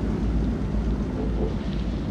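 Storm ambience in the video game Man of Medan: a continuous low, rumbling wash of wind, waves and distant thunder on a boat, steady and fairly loud with no speech.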